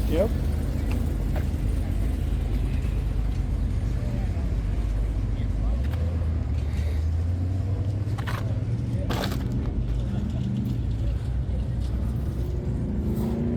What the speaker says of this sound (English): Nice 67 Corvette. Stingray.